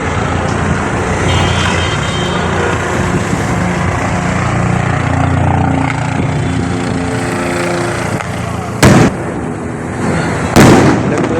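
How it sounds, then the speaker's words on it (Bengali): Two loud, sharp bomb explosions dropped from a helicopter near an airport burst out a couple of seconds apart over a constant heavy roar of engine-like noise. "বোম ফেলাচ্ছে দুটো বোমের শব্দ দেখা যাচ্ছে"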